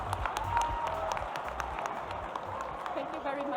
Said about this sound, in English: Please, a big round of applause for Andrea.